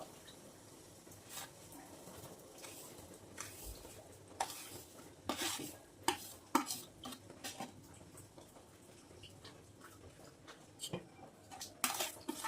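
Semolina being stirred in a pot with nuts over low heat for a sweet pudding, with scattered spoon clinks and scrapes against metal at an uneven pace, soft and close, with no talk.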